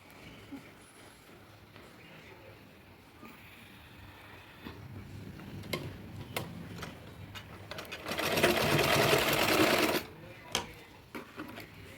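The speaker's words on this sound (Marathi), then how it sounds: "इथं आता शिलाई मारून घेऊ या पद्धतीने" Sewing machine stitching a seam on a small home-made dress, a steady mechanical whir that swells into a louder continuous run for a couple of seconds near the end, with softer ticks and handling around it.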